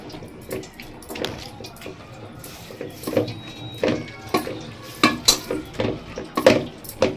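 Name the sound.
mashing cooked chicken and dal with a wooden pappu gutti masher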